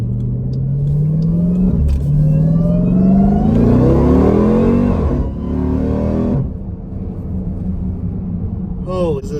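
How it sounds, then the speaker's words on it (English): A supercharged Jeep Trackhawk engine, rated around 900 horsepower, revs and climbs in pitch through several rising sweeps, then drops back to a lower rumble, loud and close. "Now on a performance car, engine noise isn't that big a deal."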